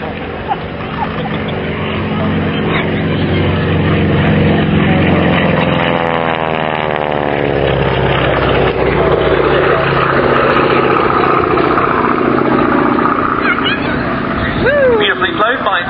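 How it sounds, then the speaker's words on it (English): Propeller aircraft flying a display at the East Kirkby air show, a loud droning engine roar that sweeps past with a pitch shift, heard over crowd chatter and commentary. "Beautifully flown by its regular display pilot, Bob Walker."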